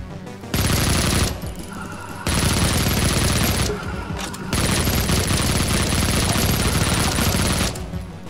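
Sustained SMG fire from the video game Project Warlock, loud and close, in long continuous bursts separated by short pauses.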